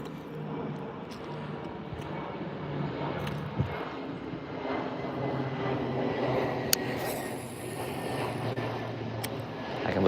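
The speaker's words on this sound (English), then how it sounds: "Big plane." A large airplane passes overhead near a fishing spot, a steady broad engine roar holding for about ten seconds with faint outdoor background noise.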